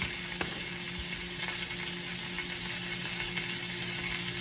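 Garlic sizzling as it goes into a hot pan while Jamaican brown stew chicken is being cooked, a steady, even frying hiss that holds at one level with faint ticks of crackle throughout.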